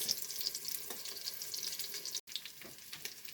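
Salisbury steak patties sear in a pan, sizzling and crackling steadily at a fairly quiet level, with a brief break in the sound partway through.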